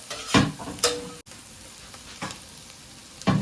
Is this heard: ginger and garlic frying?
yes